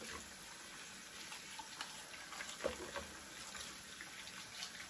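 Herbal tea ingredients are rinsed under a running kitchen tap, making a faint, steady stream of water with small splashes and clinks of handling.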